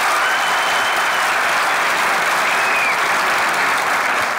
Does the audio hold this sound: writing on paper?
no